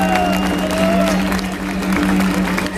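Concert audience at a show in Sassari applauding their sound engineer, a loud sustained wash of clapping and crowd noise with a steady hum running underneath.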